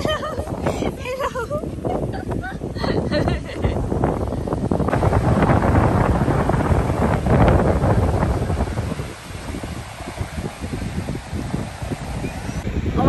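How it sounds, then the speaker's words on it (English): Strong wind buffets the microphone at a beach, a loud continuous rumbling roar throughout, with voices talking and calling out over it. "it's so windy here"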